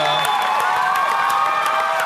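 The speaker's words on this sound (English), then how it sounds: "it's almost deafening, this applause for the Labor leader" Loud, dense crowd applause and cheering with whoops fill the hall for the Labor leader, Rebecca Smith, at a Tasmanian state election event, sustained throughout with voices mixed in.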